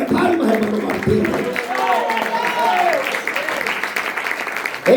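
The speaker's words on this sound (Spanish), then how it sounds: "De palmas, hermano Martín." A church congregation claps and applauds for several seconds while a voice carries over the clapping.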